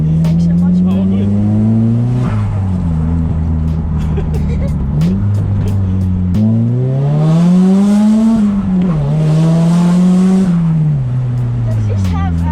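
A loud, raspy Nissan S15 engine with an exhaust leak revs up and down repeatedly with a rough, popping exhaust note, and people talk over it.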